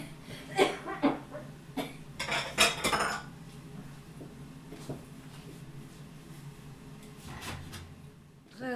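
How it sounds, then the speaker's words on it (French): Dishes and cutlery being put away in a kitchen cupboard: several close, sharp clinks and clatters in quick bursts near the start, then quieter knocks and a last clatter near the end. "à remettre la vaisselle là"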